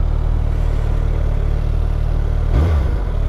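A 2022 Suzuki Hayabusa with a double Akrapovic exhaust idles close and loud with a deep, steady throb, then gives one brief low blip near the end.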